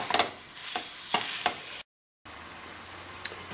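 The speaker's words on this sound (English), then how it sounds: "Break that up as well as you can with a spatula." Homemade Italian sausage meat sizzles in a pan while a spatula breaks it up, with a soft frying hiss and several scraping strokes in quick succession. A brief silent gap follows, then quieter sizzling with one more scrape.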